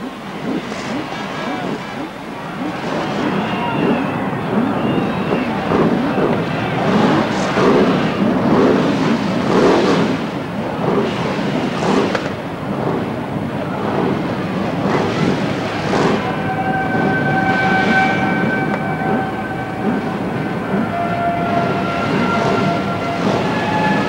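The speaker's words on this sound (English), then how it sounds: "Start your engines." Brisca F1 stock car engines start together at a stock car race in Bradford, building into a broad, loud roar of many engines that holds steady throughout, with crowd and wind noise mixed in.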